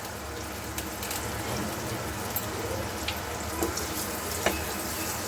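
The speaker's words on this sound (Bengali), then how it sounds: "এবার এগুলোকে একটু ভাজা হচ্ছে" Continuous sizzling and frying of slit green chillies with turmeric in a pan, a steady crackle with a few faint clicks of a utensil, no talking.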